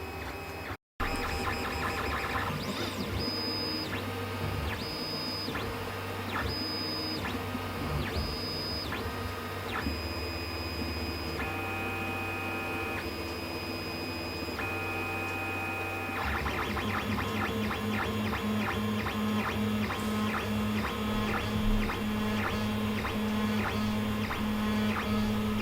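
A TronXY X1 3D printer running: a steady mechanical whir with shifting whining stepper-motor tones that change pitch from move to move, at a moderate level throughout with no talking.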